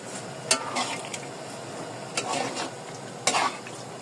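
Onion and liver frying in a pan, a steady close sizzle with three sharp scrapes and clinks of stirring at regular intervals.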